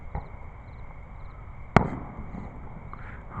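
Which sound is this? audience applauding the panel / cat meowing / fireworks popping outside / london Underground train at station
fireworks popping outside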